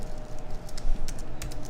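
Rapid keystrokes on a computer keyboard as an SSH command is typed into a terminal, a close, steady run of clicky taps with a few louder key hits, no talking.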